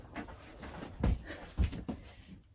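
A camping dog whimpers and pants close by inside an RV, with soft rapid breaths and a couple of louder thumps or yips mixed in.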